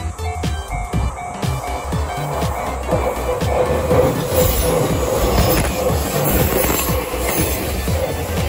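A long 15-car train pulls into a Tokyo station, its wheels clattering in steady rhythm over rail joints under a continuous rumble, with faint high squeals, loud and close, with no talk.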